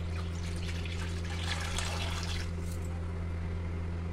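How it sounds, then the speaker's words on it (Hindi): Three glasses of water poured into an iron kadhai on a gas stove, heard as a steady splashing hiss for a couple of seconds that fades out, leaving a constant low hum with no talking. "और इसमें डाल देंगे पानी 3 गिलास।"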